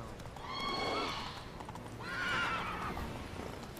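A horse in The Witcher 3: Wild Hunt whinnies twice in long, wavering calls over a steady clatter of hooves, close by and with no talk over it.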